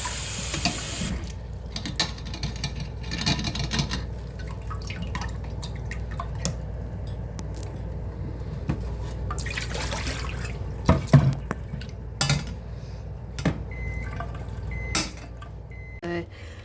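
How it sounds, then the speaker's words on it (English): Cold water from a tap runs through cooked food in a kitchen colander, a steady close splashing stream with scattered drips and clatters as the food is moved around, with no talking over it. "I am going to strain this and put it through a colander with some cold water"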